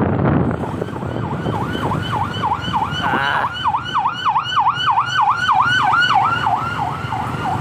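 A wailing ambulance siren sweeps up and down in a steady repeating cycle, loud and close, over a rumble of festival traffic in Cadiz City, Philippines.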